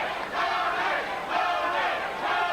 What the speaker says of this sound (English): You can hear his corner chanting his name.